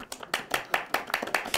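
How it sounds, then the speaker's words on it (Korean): Scattered hand claps from a small group in a KBS TV studio, a few distinct sharp claps in an uneven rhythm, with faint voices under them. "박수!"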